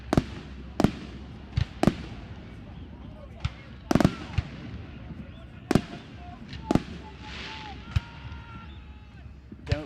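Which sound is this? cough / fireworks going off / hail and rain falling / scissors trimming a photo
fireworks going off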